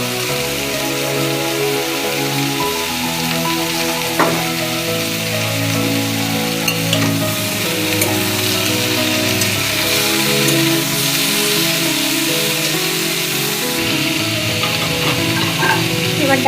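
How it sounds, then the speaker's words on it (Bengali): Jackfruit seeds tossed into a pan of frying vegetables for a Bengali mixed veg curry, with steady loud sizzling and intermittent stirring scrapes throughout, no voices. "এবার কাঁঠালের দানাগুলো দিয়ে দিচ্ছি।"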